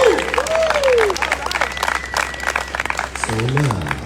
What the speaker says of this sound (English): And a round of applause for both of our new speakers